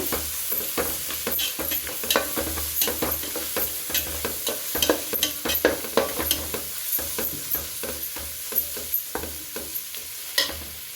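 Egg fried rice ingredients fry in a pan with a steady sizzle, broken by a quick run of scraping, clattering stir strokes throughout. No one talks.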